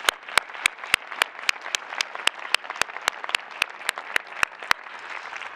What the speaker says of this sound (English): Another round of applause for our mayor and our chair for their great work.